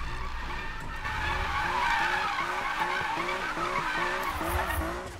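Tires screech and skid as a car drifts in Need for Speed 2015, a sustained squeal over a pulsing engine note that rises and falls in regular surges, fairly close.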